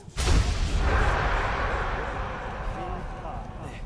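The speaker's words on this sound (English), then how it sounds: "Explosion." A still explodes in the video game Enderal with one sudden loud blast that leaves a long roaring rumble fading over several seconds.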